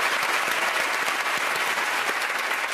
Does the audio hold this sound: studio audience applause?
yes